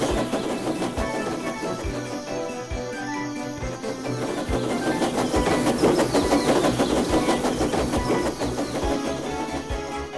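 A steam engine named Timothy from a Thomas and Friends remake thunders past, a loud, continuous rumble with rhythmic clatter that swells toward the middle and holds, with no voices over it.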